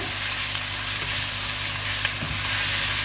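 Onions sizzling steadily in hot oil in a pan, with a constant dense frying hiss and occasional faint scrapes as they are stirred, close up and loud, with no talking.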